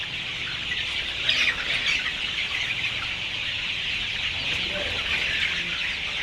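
A poultry shed holds about 5,000 Sonali chickens, 28 days old, clucking and chirping together in a dense, steady chorus that fills the space without letup.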